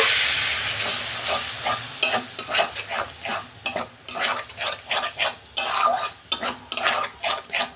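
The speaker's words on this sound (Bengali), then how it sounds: "আমি জল দিচ্ছি।" Spice mix for a goat offal curry frying in a pan as water goes in, giving a strong sizzle that fades into bubbling, with a spoon stirring and scraping against the pan.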